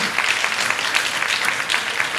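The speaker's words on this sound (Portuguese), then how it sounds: "Nós está pedindo aplauso para Cel Gideon." Audience at a church festival applauds steadily, a dense, loud wash of clapping hands that holds evenly throughout without pause.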